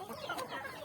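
A native chicken gives a quick cluck or two on a poultry farm, brief and fairly soft against a low background.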